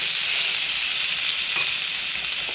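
Fish roasts in a hot pan, producing a loud, steady sizzle and hiss that stays constant throughout, with a few faint soft knocks and no voices.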